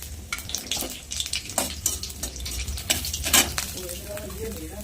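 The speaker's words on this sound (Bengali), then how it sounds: "তেল কিন্তু গরম হয়ে গেছে কালো জিরা শুকনো লঙ্কাটা দিয়ে দেবো" Nigella seeds and dried red chilies hit hot oil in a pan, crackling and sizzling in bursts with a few stirring clinks of a utensil, close and fairly loud throughout.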